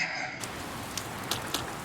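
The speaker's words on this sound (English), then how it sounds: "Into the next day, it looks like it's starting to rain." Steady rainfall in the video game Persona 4 Golden, a soft continuous hiss of drops with a few sharper taps, moderately faint and alone with no voices.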